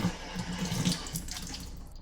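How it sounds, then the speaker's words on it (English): Tap water runs steadily for a couple of seconds as hands are wet before handling sourdough dough in a home kitchen, a soft continuous splashing with no talking. "I run the water and just wet my hands a little bit so that my dough doesn't stick to my hands"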